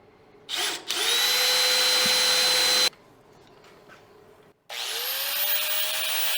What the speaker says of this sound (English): I can certainly just drill another hole right next to it